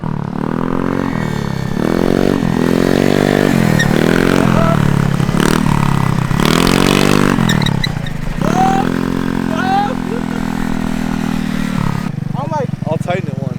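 A 150cc GY6 scooter engine revs hard during wheelie practice, loud and close, its pitch repeatedly climbing and dropping in surging bursts, with rattles and scrapes and voices breaking in briefly.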